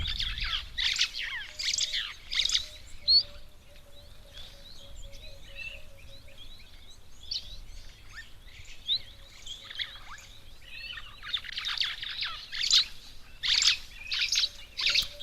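Birds chirp and tweet around a waterhole in the wild, with bursts of busy high twittering that thin out in the middle and return near the end, over a low steady ambient rumble.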